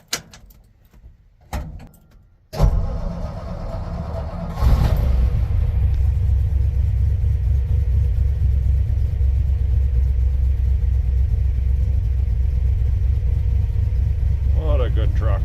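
An old tow truck's engine cranks and fires after a few clicks and a door thump, then runs on as a loud, steady low rumble at close range, with a brief voice near the end.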